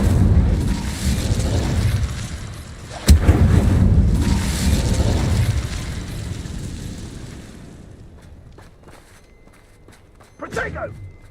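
Incendio fire spell blasts in Hogwarts Legacy, a sudden loud boom followed by a rumbling roar that slowly fades, with a brief burst near the end.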